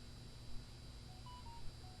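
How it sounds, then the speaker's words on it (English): A mobile phone gives a few short, faint beeps in quick succession over a steady hiss, with no voices. "sorry about that, that's my phone."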